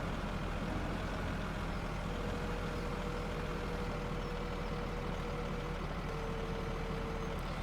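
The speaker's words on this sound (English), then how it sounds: "We'll load up this Volvo dump truck." Volvo dump truck in Farming Simulator 17 idling with a steady low diesel drone and a faint whine, constant and close, no voices over it.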